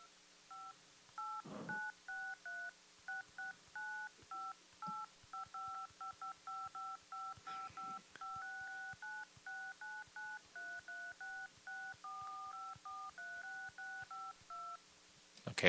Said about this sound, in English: let's call Tarmac John real quick to make sure that he's all right